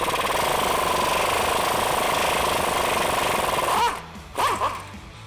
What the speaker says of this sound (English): we're gonna use a 14mm socket on this bolt to slowly back it out